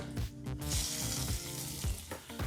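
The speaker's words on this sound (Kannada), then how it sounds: "ಒಂದು ಒಗ್ಗರಣೆಯನ್ನು ಚಟ್ನಿಗೆ ಹಾಕ್ಕೊಳ್ಳೋಣ" A loud burst of hot-oil sizzling as tempering hits onion chutney, crackling steadily over a low background hum, with no voices.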